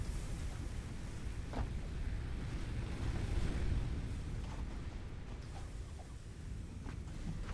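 Water waves wash continuously in the video game Satisfactory, a low rolling surf mixed with wind-like rush, steady and moderately loud with no speech.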